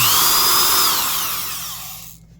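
A Skil 223 3/8-inch heavy-duty variable-speed reversible drill running at about 750 RPM with a 1-inch spade bit, a loud close whine and grind that holds steady, then tapers off and stops.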